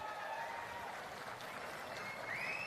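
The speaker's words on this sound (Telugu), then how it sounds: "మీరు కూడా గట్టిగా చప్పట్లు కూడా చెప్పండి" A crowd at a political rally in Andhra Pradesh with Chief Minister Chandrababu Naidu claps steadily, a dense and fairly distant wash of applause that holds even throughout.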